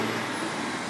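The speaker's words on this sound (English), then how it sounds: "It's going to get noisy because there's a truck coming." A truck rumbles past close by on a road, a steady broad roar of engine and tyres filling the short moment without any talk.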